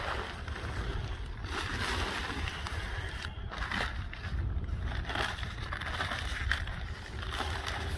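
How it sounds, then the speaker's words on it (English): Water splashes and pours out of rain-flooded equipment at a home in Ormond Beach, Florida, a continuous watery rush with low rumbling and occasional sharper splashes. "we got to pour that water off"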